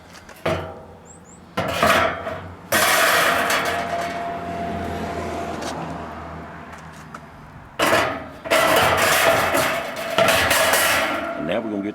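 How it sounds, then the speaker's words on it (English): Metal racks set back into an Ugly Drum Smoker, heard as a few loud clanking and rattling bursts of metal on metal separated by quieter stretches of scraping and shuffling. "And then I go place my racks back."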